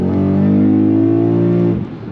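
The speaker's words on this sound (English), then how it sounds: "I'm gonna put my foot straight to the floor. I'm gonna make it nice and loud so you hear the pedal hit" A Lexus GS F at full throttle, its engine roaring loud and steady as it accelerates, then the note drops sharply as the transmission downshifts near the end, with no talk over it.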